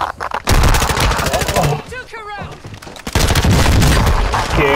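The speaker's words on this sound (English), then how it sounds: "Just keep shooting." Loud, rapid gunfire from a shooter video game, dense bursts of automatic fire in two long stretches with a brief gap between, while a player talks under the shots.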